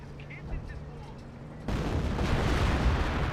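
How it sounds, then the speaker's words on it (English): Creeping barrage artillery fire in the Company of Heroes 1 video game. The barrage begins as a sudden, sustained rumbling roar of shell blasts halfway through, following a quieter stretch with a voice talking. "And we got the creeping barrage over here."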